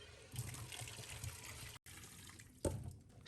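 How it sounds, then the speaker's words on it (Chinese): Sliced pork liver is rinsed in a bowl of clean water, with soft splashing and trickling close by. A sharp slosh comes near the end, and no one talks. "用清水清洗2遍，把血水洗掉"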